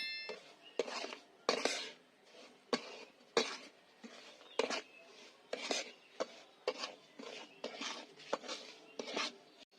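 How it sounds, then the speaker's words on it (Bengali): A spatula scrapes and stirs semolina frying in ghee in a pan, making a steady run of rhythmic scratchy strokes at close range with no talk. "এবার আমি ঘি আর সুজি একসঙ্গে ভালো করে নেড়ে ভেজে নিচ্ছি।"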